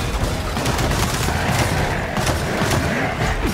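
Mounted turret gunfire in Gears of War 4 on Insane difficulty: a dense, continuous fusillade of rapid shots and thuds that stays loud for the whole stretch, alone without speech.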